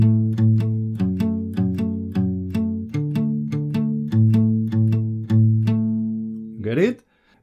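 A single guitar picks out a riff, each plucked note sounding distinctly in a steady rhythm, up close and unaccompanied, before a short scrape ends the phrase.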